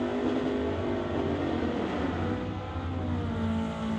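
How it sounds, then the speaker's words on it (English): A clutch-shifted drag race car at an NHRA Summit ET bracket race roars in a continuous loud, steady engine drone with a gritty burnout-like texture, close and alone without talk. "I'll wait for the burnouts."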